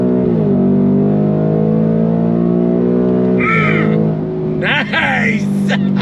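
A 2024 Ford Mustang GT V8 pulls hard through a turn on a track, its steady engine drone rising in pitch under continuous throttle, with tire or chirping noises breaking in near the end.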